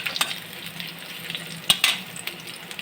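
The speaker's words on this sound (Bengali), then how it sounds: "রসুনটা একটু ভেজে দিই" Garlic frying in a pan for a Bangladeshi radish-leaf and lentil dish, a soft continuous sizzle punctuated by several sharp scraping stirs of a utensil.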